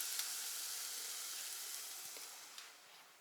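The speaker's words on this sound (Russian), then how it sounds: "Они сейчас быстро будут жариться." Dough pastries fry in a pan, giving off a soft, continuous sizzle and hiss that slowly fades, with a few faint clicks and no voices.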